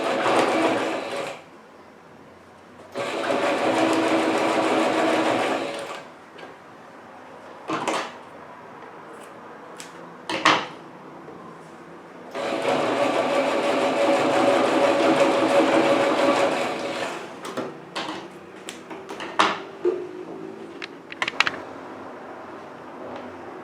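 A sewing machine stitches bias binding around a vaccination card cover, running in two long steady bursts separated by pauses with brief handling clicks and knocks in between, close and fairly loud.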